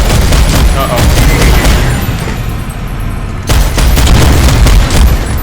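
Dense gunfire and booming explosions rattle through a PlanetSide 2 battle, with rapid shots and blasts layered together, a brief lull midway, and then heavy fire again, all loud and close.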